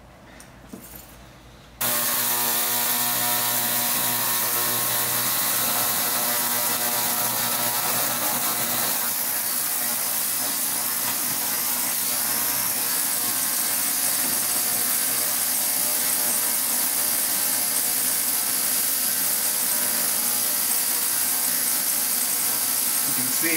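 An ultrasonic cleaner switches on after a quiet start and runs steadily, a dense, constant buzzing hum with high-pitched whine while it strips carbon from an AR rifle bolt.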